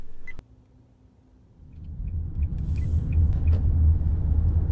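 Car rumbling on the road, heard from inside as a low engine and road drone that swells from quiet to a steady loud hum, with a few faint beeps and clicks.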